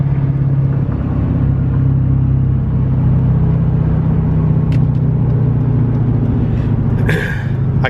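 A semi truck drives along with a steady, loud low engine rumble and road drone, close by, with a brief rattle or hiss near the end.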